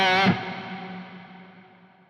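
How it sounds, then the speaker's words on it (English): A modulated ambience reverb on a Cortex Control patch: one bright guitar hit rings out and decays as a wide, shimmering wash over about two seconds, with no other sound. "So maybe let's try ambience. It's a bit bigger, modulated."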